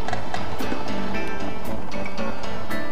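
A motorbike camera crew rides over rough cobblestones during the 1990 Paris-Roubaix cycling race, giving a loud, continuous rattling rumble with wind noise and scattered sharp knocks and jolts throughout.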